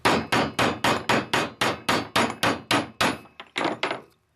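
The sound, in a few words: hammering bushing into place with a bushing driver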